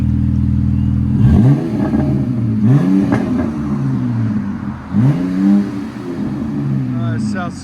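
A RAM 1500 with the 3.6L V6 and a Flowmaster Super 4 exhaust, resonator deleted, with a 5-inch black tip, revs loudly in three or four sharp bursts over a steady deep idle, with voices in the background.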